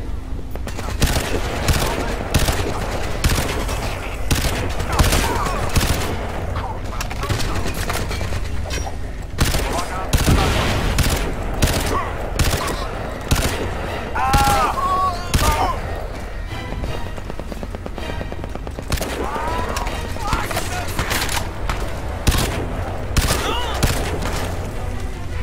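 Rapid bursts of Crysis 2 gunfire crackle through the whole stretch, dense and continuous, with voices talking over the shooting.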